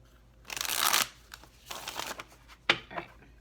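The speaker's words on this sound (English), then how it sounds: "This will be our last shuffle." Tarot cards are shuffled in quick riffling bursts, a long flutter followed by two shorter ones and a light tap, close and quiet.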